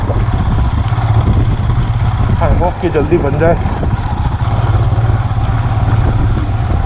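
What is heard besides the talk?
Himalayan motorcycle riding on rough mountain road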